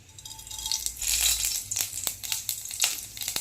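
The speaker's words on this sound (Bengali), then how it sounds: "শুকনো লঙ্কা পাঁচ ফোড়ন ভাজা হয়ে গেছে" Panch phoron and dried chili frying in hot sunflower oil, a steady close sizzle with scattered crackles and pops from the seeds, no voices.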